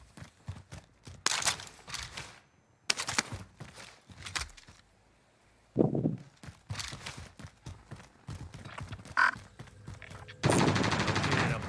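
Gunfire in the video game Call of Duty Warzone: repeated loud automatic bursts and single shots at irregular intervals, separated by short pauses, with footstep-like clatter between them and a dense final burst.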